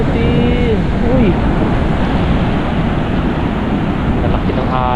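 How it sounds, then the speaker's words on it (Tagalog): Large ocean waves wash against the seashore in a steady, loud roar mixed with wind buffeting the microphone, while a voice briefly speaks near the start. "nalaki ng alon mga kabisdak"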